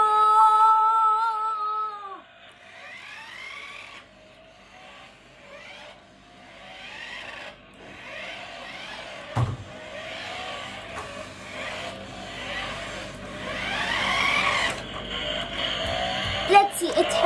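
A small toy smoke Bugatti car whirs and revs with a thin motor sound that rises and falls while a person talks excitedly over it throughout.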